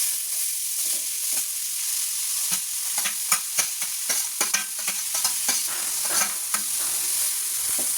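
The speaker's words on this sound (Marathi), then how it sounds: "हे असं परतून घ्यायचं आहे व्यवस्थित आपल्याला" Grated carrot and dry fruits being stirred and sautéed in ghee for carrot halwa, a steady soft sizzle broken by repeated scraping strokes of the spoon, close and fairly loud with no talking.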